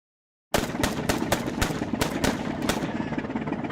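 Cartoon gunfire as a scout shoots out cell locks with a silenced gun: a burst of about eight sharp cracks in quick uneven succession over a steady mechanical rumble, loud and close, no talk.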